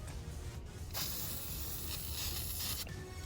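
Close, quiet spray-can hiss of silver paint going onto a Pontiac G8 part, with two short bursts separated by brief pauses.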